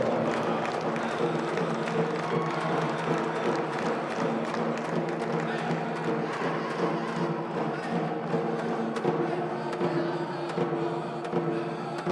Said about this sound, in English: how about a big round of applause to our grand entry here?